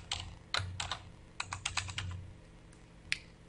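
Someone types an email address and password on a computer keyboard: a quick run of close, soft clicking keystrokes in small bursts, then a single final key press, with no voices.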